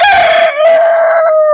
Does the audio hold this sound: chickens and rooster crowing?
yes